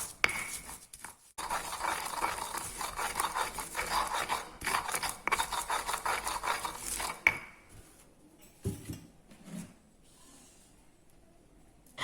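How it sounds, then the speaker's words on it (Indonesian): A stone pestle grinds spice paste for sambal in a mortar with steady rasping, rubbing strokes, close and fairly quiet, for about seven seconds before stopping, followed by a few faint knocks and scrapes. "Kita giling sampai halus ya teman-teman."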